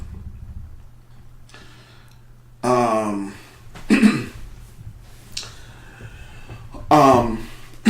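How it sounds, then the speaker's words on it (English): A few short throat-clearing bursts, three rough coughs spaced apart, close and fairly loud against a quiet background. "sorry, clear my throat"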